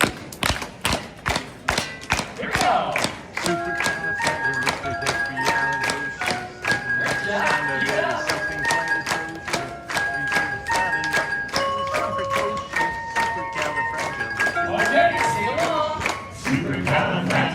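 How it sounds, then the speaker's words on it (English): Crowd at a Disney sing-along show in Magic Kingdom claps steadily in rhythm to the song, loud and continuous, with a bright melody and singing voices running above the beat. "all right, everybody start clapping along."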